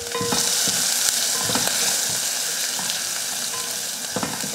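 Mustard seeds, urad dal, curry leaves, asafoetida and turmeric sizzle loudly in hot oil for a rasam tempering, a dense, continuous crackling fry close up with occasional stirring scrapes and no voices.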